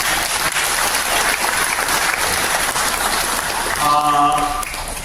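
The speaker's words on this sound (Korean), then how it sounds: "이분들에게 큰 박수 한번 해주시기 바랍니다" Sustained applause fills a church memorial service honoring General Baek Sun-yup, clapping steady and dense throughout, swelling slightly near the end with a brief spoken voice.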